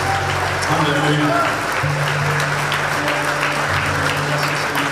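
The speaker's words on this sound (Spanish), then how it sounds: "Fuerte ese aplauso a nuestro Dios" A church congregation applauds to God during an evening Spanish-language service, a steady mass of clapping running the whole time beneath held musical tones and voices.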